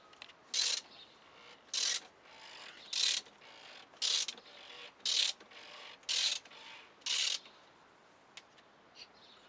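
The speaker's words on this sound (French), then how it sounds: "Donc maintenant on va extraire le filtre à huile" A ratchet on a 32 mm socket loosens the oil filter housing on a BMW E60, giving seven short bursts of clicking at a steady pace, each about a second apart, close and moderately loud over a quiet background.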